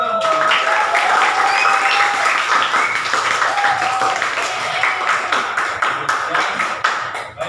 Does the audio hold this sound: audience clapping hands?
yes